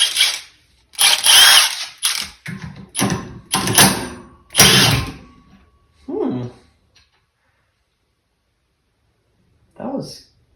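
Impact wrench rattling out a bolt on a 2011 Honda Odyssey engine during a power steering pump replacement, several loud bursts of varying length in the first five seconds, then a few fainter clunks and quiet gaps.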